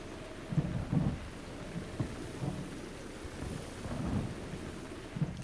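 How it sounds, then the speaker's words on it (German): Thunderstorm with lightning in the video game Zelda: Breath of the Wild, low rolling thunder rumbles recurring over a steady wash of rain and wind, moderately loud. "Er ist richtig blöd jetzt mit dem Blitz hier."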